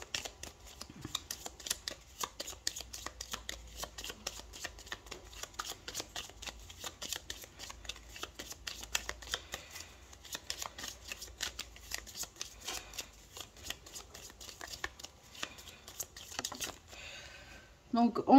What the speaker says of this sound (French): on va recouvrir 3 cartes pour le domaine sentimental